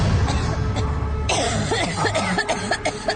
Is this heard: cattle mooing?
no